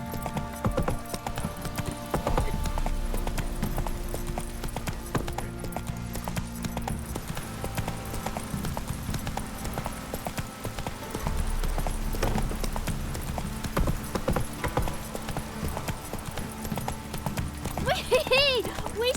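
Roach, Geralt's horse in The Witcher 3, gallops in quick repeated hoofbeats over a layered bed of game music and ambience, with a brief whinny-like flourish near the end.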